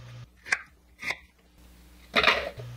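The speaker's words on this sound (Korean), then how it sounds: "양파도 갈기 좋은 크기로 썰어 준비합니다." A knife cuts through onion on a board in a Korean kitchen, three separate chopping strokes, close and fairly crisp, with short pauses between them.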